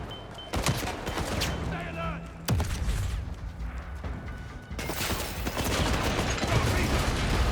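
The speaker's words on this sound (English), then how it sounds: "I think that guy up there is shooting me." Enemy gunfire in the video game 007 First Light, with bursts of shots rattling through a busy combat soundscape, sharp reports and mechanical clatter layered under a talking player's voice.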